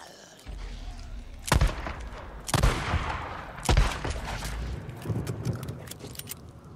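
Gunshots ring out in the video game Days Gone, three loud sharp blasts spaced about a second apart over a noisy game background, followed by smaller scattered shots.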